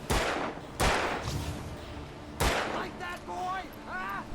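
Gunfire in the video game Alan Wake, played on Nightmare difficulty against the Taken: a few loud, sharp shots spaced apart, with voices talking between them.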